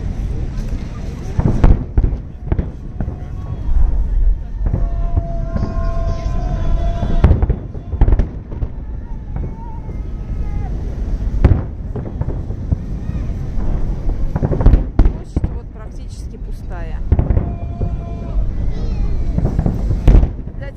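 A fireworks salute over Palace Square bursts again and again in sharp, loud booms and crackles, some near and some echoing, with wind noise and occasional voices between the blasts.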